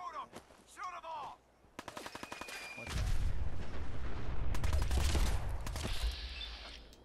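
Rapid gunfire from the video game Fallout 4: a sparse shot or two, then from about three seconds a dense, loud fusillade of overlapping bursts and blasts that continues to the end.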